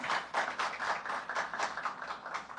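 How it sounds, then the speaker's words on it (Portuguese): Audience clapping steadily for a couple of seconds, a dense burst of many hands with no voices over it. "Palmas para ele, por favor."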